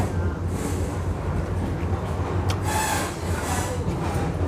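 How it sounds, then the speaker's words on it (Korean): A slow local train on a rural line in Gokseong, South Jeolla, heard from inside the carriage as a continuous, steady, close rumble of wheels and carriage noise with no clear speech. "느릿느릿 다니는 기차에서"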